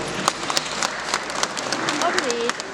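Audience applause at a baptism ceremony, a steady wash of clapping for a few seconds with a voice speaking briefly over it.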